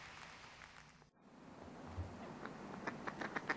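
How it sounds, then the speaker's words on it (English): Ducks feed in a shallow puddle habitat, giving a few soft, rapid quacks and dabbling noises nearby, quiet and brief, against a faint outdoor background. "these ducks are finding plenty of food here"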